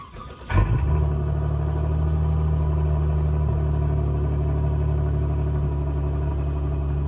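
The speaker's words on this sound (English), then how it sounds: "I gotta do a freaking exhaust clip." A 2020 Dodge Challenger SXT fires up with a sharp starter catch and burst, then settles into a steady, deep exhaust rumble at idle, close and loud with no other sounds.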